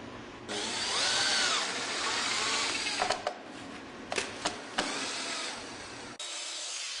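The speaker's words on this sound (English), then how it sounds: "Attach each RSB to the post using screws provided." A power drill drives screws to fasten Trex railing brackets to a deck post, whirring steadily for several seconds with a few short clicks and bursts, close and moderately loud.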